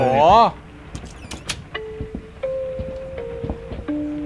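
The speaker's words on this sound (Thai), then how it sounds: "มันเป็นกล่องเพลงอะไรอย่าง เสียงเหมือน Resident Evil" Eerie, music-box-like tones in the horror game Layers of Fear: a brief voice, then faint sustained notes with scattered clicks and taps in a quiet room.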